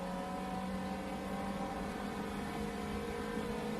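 A Ferrari Mondial engine accelerates hard out of a corner on a road drive. The note is a loud, close, steady mechanical drone with strong harmonics, continuous throughout, and no voices are heard.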